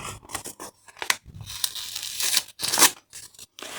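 Crisp tearing and crinkling of a paper packet being torn open in a few quick bursts, close up, with no talking.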